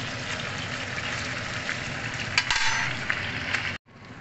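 Pork chop frying in a pan, its fat spitting and popping in a loud, steady sizzle with bursts of crackle, stopping abruptly near the end.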